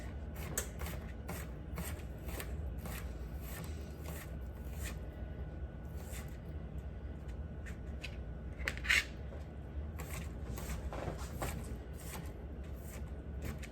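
A knife dices garlic finely on a cutting board at home, its quick light taps and scrapes repeating steadily and close up, with a slightly louder clatter partway through.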